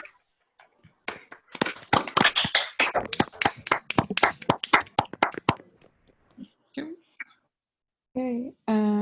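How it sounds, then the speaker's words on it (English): Scattered participants in an online math seminar clap after unmuting, sharp irregular claps from separate microphones for several seconds, then fading out before a voice speaks. "let's give a round of applause to Shoham"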